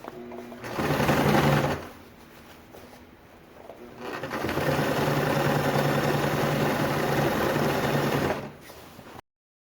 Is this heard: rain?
no